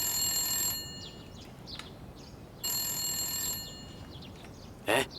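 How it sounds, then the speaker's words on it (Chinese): A telephone rings in a Taiwanese TV drama: two bright, repeating electronic ring bursts separated by a pause, followed by a short sharp sound at the end, with no talking. "妈咪啊，电话。"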